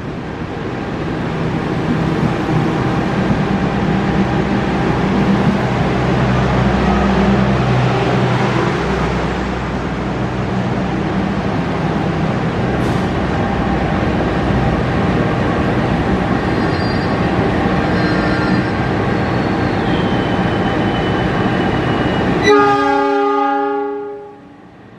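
The Cikuray Jakarta-Garut passenger train rumbles past steadily at Jatinegara Station for a long stretch, a horn sounding briefly near the end before the noise cuts off.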